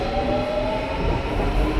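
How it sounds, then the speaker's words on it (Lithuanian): Metro train rolling through an Istanbul station, a loud continuous rumble and whine of the carriages passing close by, with no voices. "Čia buvo mano traukinys."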